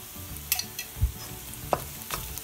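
Ginger garlic paste goes into a pan of frying onions, with a soft steady sizzle, a few clinks and scrapes of stirring and a low thud, close up and with no voice.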